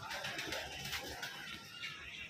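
Soft pigeon cooing sits in the background, faint and low, with a few rustling bird sounds around it.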